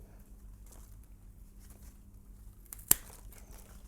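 A single crisp snip as a variegated plant stem is cut off, quiet and close against a near-silent room.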